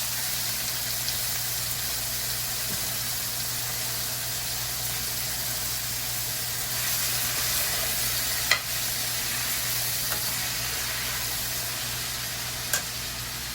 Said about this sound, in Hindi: ऑयल कुछ ज़्यादा ही गर्म है, छींटे आ रहे हैं।